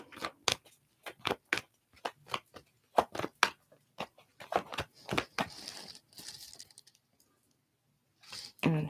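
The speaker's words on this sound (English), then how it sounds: "Let me shuffle these cards up real good." A tarot deck is shuffled by hand in a series of quick, crisp card riffles and slaps that come in uneven bursts with short pauses between them, close to the listener and with no one talking.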